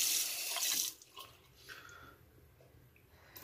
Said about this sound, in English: Let's get a final rinse.